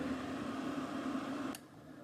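An Intasting electric tea kettle heating water toward boiling gives a steady, hissing, rumbling whir that runs for about a second and a half, then drops off abruptly to a quieter hum after a brief click.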